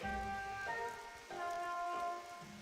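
Rain falls steadily as a soft, even hiss in the video game Bravely Second: End Layer, under louder sustained tonal music throughout.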